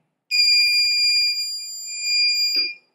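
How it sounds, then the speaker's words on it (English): A steady, shrill electronic buzzer tone, driven by a Raspberry Pi through a PCA9536 digital I/O board, sounds continuously for over two seconds, then cuts off with a brief click. "when input pin 3 state is high, the buzzer will be on"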